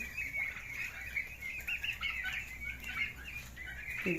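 Turkeys on a small farm in Shibganj, Chapainawabganj, giving a steady stream of clucks and gobbling calls, close and continuous over light background noise.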